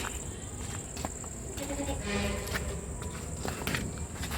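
Footsteps near a goat shed on a farm, soft irregular steps over a steady bed of insect and cricket chirping, with faint background voices.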